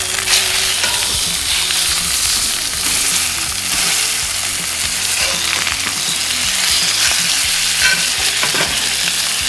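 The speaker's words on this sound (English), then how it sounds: "So these have been in the pan here for about 4 minutes." Dry-brined steaks sear in a hot pan with a loud, dense, steady sizzle that continues unbroken throughout, close up, with no one talking.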